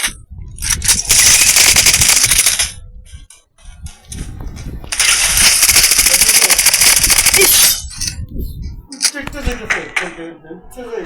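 Machine gun fire in the video game Blood Strike comes in two long, loud sustained bursts separated by a pause, followed by shorter choppy shots, with a voice talking in the gaps.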